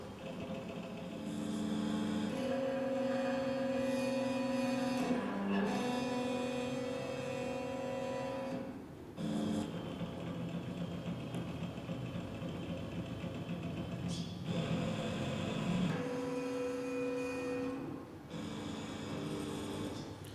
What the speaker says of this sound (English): this is a DIY open source 3D printer, and it's scanning this onion plant